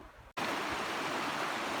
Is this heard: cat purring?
no